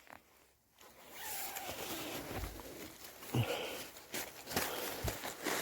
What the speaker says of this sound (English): That obviously zips open.